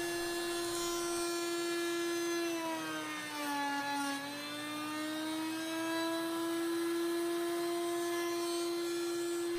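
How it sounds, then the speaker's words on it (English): Router table bit cutting juice grooves into a wooden cutting board, a steady high-pitched whine that dips briefly in pitch under load as the board is plunged over the bit, then holds steady, close and continuous. "we'll slowly plunge down over the bit while we're moving the cutting board in that direction"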